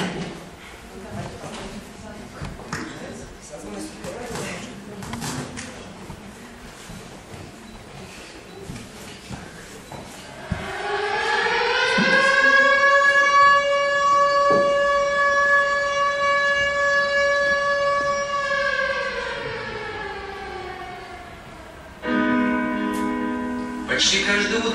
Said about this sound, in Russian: Но это всего лишь тревога пожарной станции.